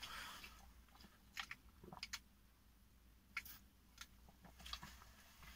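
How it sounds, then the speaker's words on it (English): Crisp crunching bites and chewing up close on a McDonald's Chicken Big Mac, irregular bursts of crackle from the fried chicken separated by quieter mouth sounds, no talking. "the crunch of the chicken"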